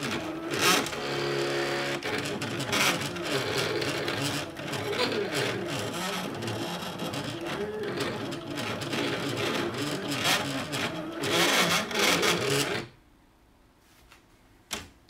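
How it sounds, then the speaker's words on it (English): A Silhouette cutting machine cuts window clings with a busy, loud mechanical whirring and stepping motor chatter, continuous and close, then stops abruptly near the end, leaving quiet room sound. "I'll let the silhouette finish cutting because it is very noisy."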